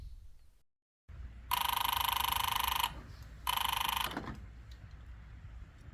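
A field telephone rings in two long electronic bursts, the first about a second and a half and the second shorter, loud and close over a steady low background hum with no talking.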